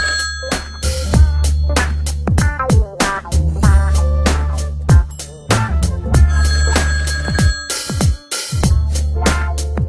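A telephone ringtone rings loudly and repeatedly with a busy, musical pattern that fills the whole stretch, with no talking.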